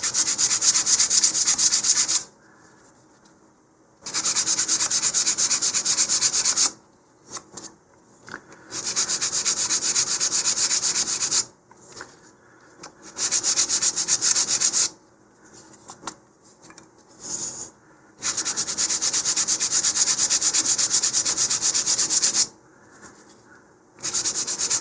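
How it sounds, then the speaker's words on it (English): Balsa wood model rocket fins are sanded with the grain, repeated bursts of loud, close, rasping strokes lasting a few seconds each, separated by short quiet pauses. "always sand with the grain there"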